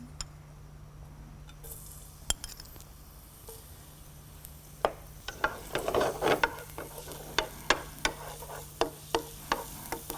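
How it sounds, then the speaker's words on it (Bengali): Finely chopped garlic drops into hot soybean oil and crackles in a rising sizzle, with sharp pops and spatters that grow denser partway through and keep recurring irregularly. "ফার্স্টে আমি গার্লিক দিয়ে দিচ্ছি।"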